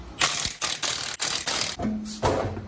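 A ratchet or impact tool loosening lug nuts to remove a wheel from a Mustang, a close, loud series of rapid mechanical bursts with short gaps between them.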